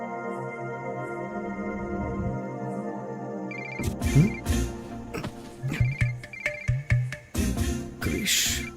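Outgoing phone call: a repeating ringback tone with electronic chimes, steady and fairly loud, followed by busier overlapping tones and clicks, no talking.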